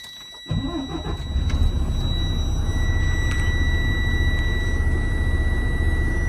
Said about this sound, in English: Now I'll start up the truck.